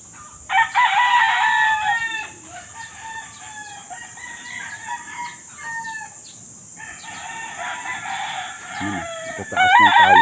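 A gamefowl rooster on a farm in Negros crows several times, loud and close, each crow a strained, ragged call. Short pauses separate the crows, and another call starts right at the end.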